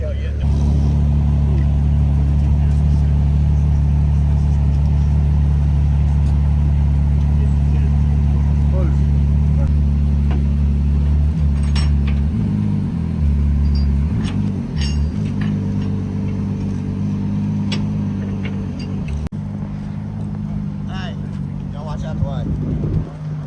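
A red Ferrari SP3 Daytona's engine runs at a steady low idle among unloaded supercars at Monterey Car Week, the deep hum continuing under ongoing talk.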